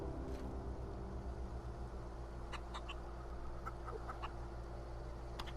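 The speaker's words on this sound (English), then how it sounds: "I'm so glad I can talk to chickens." Chickens in the video game The Outer Worlds cluck in short, scattered bursts over a steady low ambient hum, with no voices.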